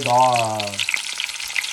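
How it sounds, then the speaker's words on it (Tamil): Onions deep fry in hot oil mixed with ghee for Hyderabadi chicken biryani, giving a steady crackling sizzle with scattered pops, and a brief voiced tone sounds at the start. "ஃபஸ்ட்டு நம்ம ஆனியனை வந்து நல்லா கிறிஸ்பாக பொரிச்சு எடுத்துக்கலாம்."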